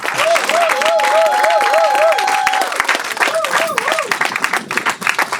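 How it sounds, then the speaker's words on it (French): A wedding congregation in a church applauds and cheers for the pastor, loud dense clapping with crowd voices and rising whoops and ululating cries throughout. "Nous acclamons plus fort pour la gloire de Dieu"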